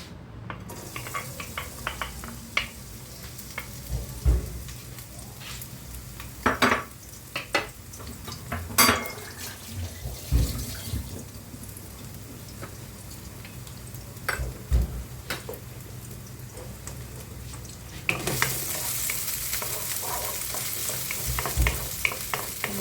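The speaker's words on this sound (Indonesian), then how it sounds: "Ini olive oil sedikit aja buat numis bawang bombay" Onion sautéing in a little olive oil crackles and sizzles steadily in a pan, with scattered clicks and scrapes of stirring, and the sizzle swells louder toward the end; no one speaks.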